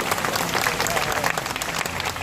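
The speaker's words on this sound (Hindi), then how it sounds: "जोरदार तालियां हो जाए" A crowd at a political protest rally at Jantar Mantar, New Delhi, bursts into loud, dense, continuous applause that holds at full strength for the whole stretch.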